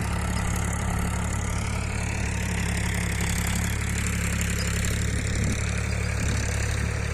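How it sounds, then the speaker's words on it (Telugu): A Euro 42 tractor engine runs steadily with a rotavator tilling chilli plants, a loud, low, continuous rumble and grinding machinery noise, close and unbroken throughout. "మన బండి రోటావేటర్ వేస్తుంది మిరప మొక్కని"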